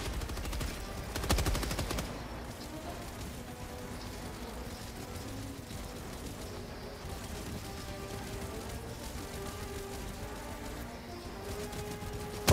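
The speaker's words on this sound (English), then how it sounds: "they're shooting at us." Sustained gunfire in a Terminator-themed video game, with a dense burst of shots near the start, then steady battle noise and continuous rattling fire throughout.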